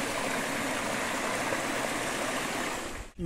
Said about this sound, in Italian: è il fiume Galantina.